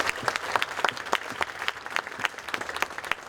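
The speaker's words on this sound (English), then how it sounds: "Give a round of applause for our small businesses." Steady applause from a crowd at a Chamber of Commerce awards dinner, many hands clapping in a dense, continuous patter without pause.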